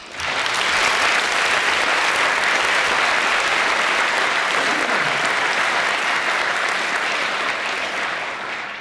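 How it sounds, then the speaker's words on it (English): An audience at a science-and-religion debate applauds the guests, steady dense clapping that holds at full strength for the whole stretch and tapers only slightly at the end, with no voices over it. "please join me in a round of applause for our guests"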